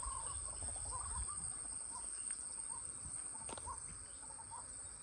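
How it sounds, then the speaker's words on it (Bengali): Faint bird calls repeat at a distance over a constant high insect chirring in a quiet outdoor setting inside a jungle beside a river, late afternoon. "কি একটা পাখি ডাকছে"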